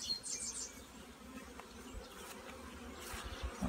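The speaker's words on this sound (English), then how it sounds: "Quite a pile of bees right there because of that." Honey bees buzz softly from a freshly opened hive lid as queen cells are started, a faint, steady drone with a few louder passes of individual bees nearby.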